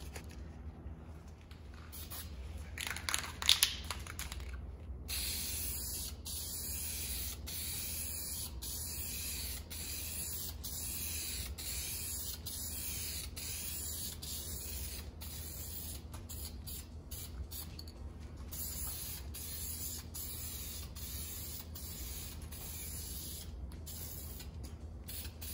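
A spray can applies purple paint to an aluminum LS 5.3 engine block, producing repeated short hissing bursts with small pauses between them. The bursts are fairly quiet and continue at a steady pace.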